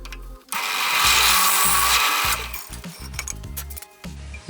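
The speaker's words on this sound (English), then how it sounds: "so I can't drill that all the way through" A power drill whines loudly as it bores into a wooden end table for about two seconds, then runs in shorter, uneven bursts with some rattling.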